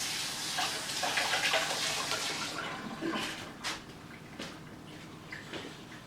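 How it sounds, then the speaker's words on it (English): Water from a tap runs steadily while hands are washed in a kitchen, a broad hiss with a few splashy bursts and clinks, moderately close and alone. "And wash my hands."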